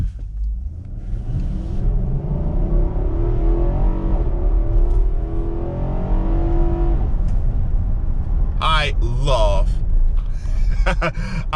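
A 2021 Infiniti QX80 SUV with a 5.6 liter V8 on the road, a steady low engine drone and road rumble heard from inside the cabin, with a voice talking over it.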